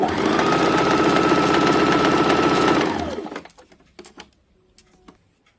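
A sewing machine runs steadily, stitching wire picot edging around the rounded net fabric of a blouse sleeve, a loud continuous whir for about three seconds before it slows and stops, followed by a few light clicks and handling taps.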